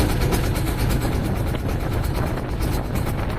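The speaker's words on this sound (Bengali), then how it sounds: "আসলে প্রচন্ড পরিমাণ নৌকার সাউন্ড, মানে আপনার মেশিনের সাউন্ড, এই কারণে কথা ক্লিয়ার বোঝা যাচ্ছে না" Loud, steady engine drone of a motor boat on the Jamuna river ghat, a continuous broadband rumble with no pauses, close and dominant throughout.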